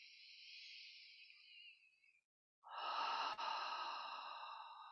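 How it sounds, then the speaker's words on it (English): A slow, deep breath drawn in and released during a lying-down yoga practice, soft and close, with a short pause between the inhale and the longer, breathy exhale. "Take a deep breath here."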